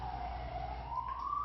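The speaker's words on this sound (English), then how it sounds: "Hear a siren?" A single siren wails steadily, its pitch dipping and then rising again, heard from a moderate distance over a low rumble.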